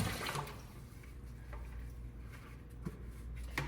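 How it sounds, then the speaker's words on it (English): Water sloshing as glaze is rinsed off a ceramic piece in a water bucket, a steady quiet wash of liquid with small splashes and drips throughout. "I'm going to give it a good rinse"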